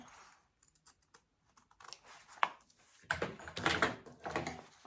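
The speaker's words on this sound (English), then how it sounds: "I'm just using pinking shears and then putting notches in those pinking shear parts." Pinking shears cut fabric edges and notches for a wallet, with sparse soft snips at first, then a denser run of crisp, close cutting and rustling clicks, quiet overall.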